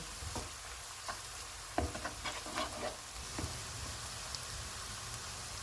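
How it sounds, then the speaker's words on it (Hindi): Quiet, steady sizzling of crushed ginger and garlic frying in a pan, with occasional soft clicks and scrapes from stirring. "इनको 2 मिनट तक भूनेंगे।"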